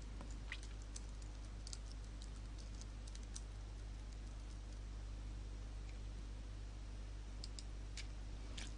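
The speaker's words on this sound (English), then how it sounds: "so we're going to type in Bob the Beetle." Faint, steady typing on a computer keyboard, light scattered key taps over a constant low background hum, with no voices.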